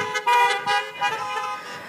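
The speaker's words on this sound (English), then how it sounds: "Honk, honk, honk." A car horn honks in several short, loud blasts, bright and brassy, with brief gaps between them and no other sound around.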